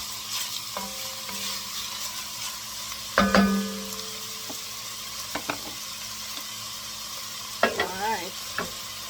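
Vegetables sautéing over medium heat in a preheated Dutch oven, a quiet steady sizzle broken by a few scraping stirs and clanks of a utensil against the pot, no talking.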